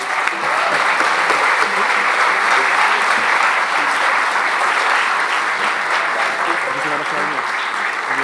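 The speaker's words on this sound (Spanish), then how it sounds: "Más fuerte el aplauso para Don Hugo, por favor." Loud, sustained applause from an orchestra concert audience fills the space, a thick continuous roar of many hands clapping close by, with a hint of crowd voices mixed in.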